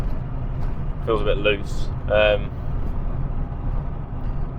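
A Mk2 Golf GTI cruises at 50 mph. The interior carries a steady, loud engine and road rumble, with a brief stretch of talking over it.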